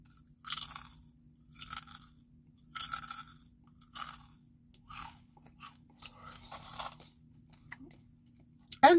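Slow crunching of jalapeno kettle-cooked potato chips, heard close up as about eight deliberate, evenly spaced bursts of crackle roughly a second apart, each bright and crisp.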